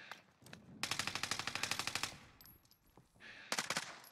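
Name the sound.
gunfire in Warzone video game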